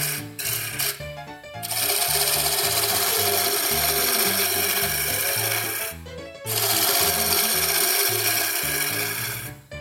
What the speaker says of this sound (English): I'll go back to my large gouge, and this is what you use to round out the cylinder.